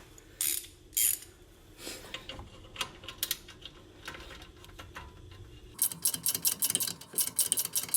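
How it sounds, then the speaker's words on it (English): A gear wrench ratcheting on a control arm bolt of a 2000 Nissan Frontier: bursts of close metallic clicking, irregular at first, then a fast steady run of ratchet ticks, loud and without speech. "we could put the gear wrench on it"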